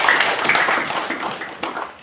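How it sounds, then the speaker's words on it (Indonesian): Audience clapping at a Pilkada election campaign gathering in Tabanan, Bali: a dense, steady patter of many hands held at a fairly even level for about two seconds, with a brief dip near the end. "Tepuk tangan dulu, Bapak Ibu."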